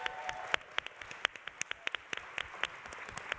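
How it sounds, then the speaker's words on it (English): Sparse, fairly faint applause from a small audience at a workplace belonging summit, scattered individual claps in an uneven rhythm rather than a full ovation. "Please give a round of applause."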